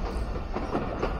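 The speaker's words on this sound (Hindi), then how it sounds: "हालांकि हमारी ट्रेन जो है ये जा रही है मेन लाइन के ऊपर" A passenger train runs on the main line near Lala Musa Junction, Pakistan, making a loud, steady rumble and rattle of wheels close by.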